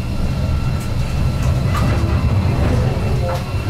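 Tram rumbling steadily in a Nuremberg tram depot, a continuous low mechanical drone with faint rail clicks and squeals, no talking.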